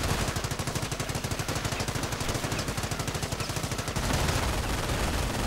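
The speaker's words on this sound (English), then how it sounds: "Duel of machine guns" Dense, rapid machine-gun fire rattles almost continuously during a 1v1 strategy game battle. Loud, steady bursts overlap as the guns trade fire, and the texture turns rougher and heavier over the last second or so.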